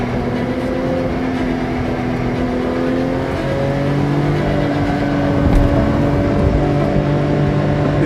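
A Porsche 911 reimagined by Singer, the DLS, is driven under load, its engine droning steadily with rising harmonic tones as it pulls. The note swells slightly louder toward the end, loud and close, with no voices.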